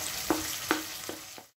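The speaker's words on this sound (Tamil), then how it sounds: "இப்போ இதில் ரெண்டு கைப்பிடி அளவுக்கு பொடியாக நறுக்கின வெங்காயம் சேர்த்துக்கலாம்." Finely chopped onions hit hot oil with cumin in a home kitchen, producing a steady sizzle broken by several sharp stirring clinks at a slow, uneven rhythm before a brief drop-off at the end.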